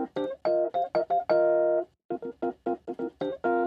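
A Rhodes electric piano sound from the Acousticsamples VTines MK1 plug-in, miked at the front of the cabinet with tremolo off, plays a lively rhythmic pattern of short chords and one longer held chord, clean and close with no speech.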